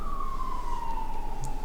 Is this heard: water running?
no